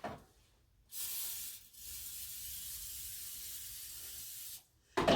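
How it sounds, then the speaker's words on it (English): Cooking spray hisses from a can onto a skillet in a short burst, then a longer steady spray lasting about three seconds, close and crisp in an otherwise quiet kitchen, with no talking. "You do need to coat it with cooking spray."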